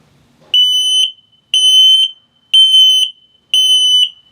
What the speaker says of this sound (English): Low battery alarm.